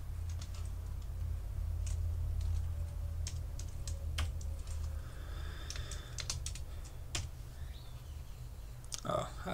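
Rapid, light typing on a computer keyboard, a quiet irregular patter of key clicks over a low hum, with a voice speaking faintly in the background.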